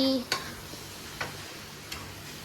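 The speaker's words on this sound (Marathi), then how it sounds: "आता गॅस बंद करतो" A gas stove knob is clicked off in a home kitchen, giving a few short sharp clicks spaced apart over a faint background hiss.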